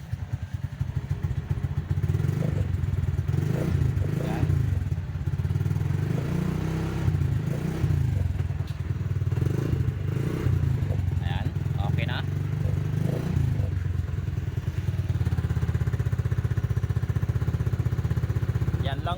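A Rossi 175 motorcycle engine, started by push after its push-button starter broke, runs steadily at a loud, close idle with a continuous chugging rumble for the whole stretch.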